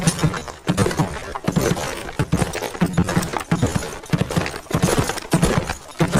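Galloping horse hooves in a horse racing video game, a fast, steady rhythmic drumming of hoofbeats that repeats loudly and continuously throughout.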